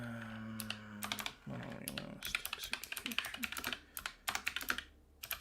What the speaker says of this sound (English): Apologies for the mechanical keyboard, people.